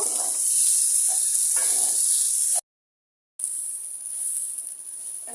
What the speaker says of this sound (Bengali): এক দুই মিনিট ভেজে নিব ভালোভাবে চালগুলো